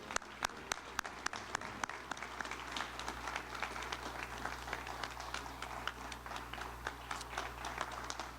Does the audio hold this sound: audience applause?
yes